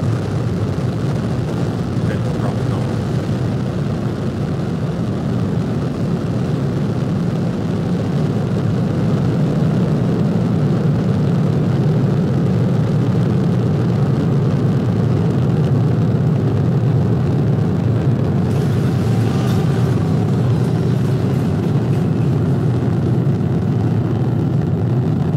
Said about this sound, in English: Ignition, liftoff. Vehicle is pitching downrange.